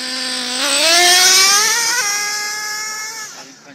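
Custom Traxxas T-Maxx nitro RC truck accelerating hard close by, a loud rising engine whine with strong harmonics that climbs in pitch, holds, then drops off near the end.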